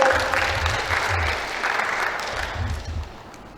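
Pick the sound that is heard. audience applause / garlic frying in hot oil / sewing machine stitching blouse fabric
audience applause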